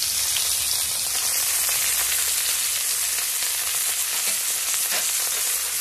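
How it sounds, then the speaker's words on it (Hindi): Chopped vegetables and mustard seeds fry in hot oil while being stirred for Maggi, giving a steady, dense sizzle that runs close and loud through the whole stretch with no voices. "हमें बढ़िया से चलाना है हमारी चॉप वेजिटेबल्स को"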